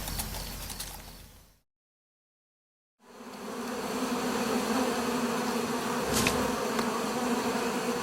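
A swarm of hornets buzzing at their hive, a steady, dense drone that cuts out to silence briefly and then resumes loud and close, with no voices.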